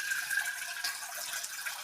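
A little water is poured for a sugar drink, a brief, close, steady trickling splash with no voices.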